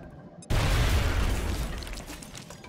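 A grenade explodes in XCOM Long War: a sudden loud blast after a brief hush, followed by a dense rumbling wash of debris that slowly fades.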